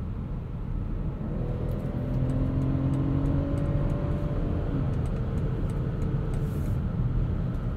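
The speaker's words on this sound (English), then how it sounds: "You can hear on this fresh pavement just how quiet this X5 is on the highway at speed." Inside the cabin of a 2021 BMW X5 xDrive45e plug-in hybrid cruising at highway speed on fresh pavement, a low steady road and tire rumble with a faint engine hum, fairly quiet and continuous, no voices.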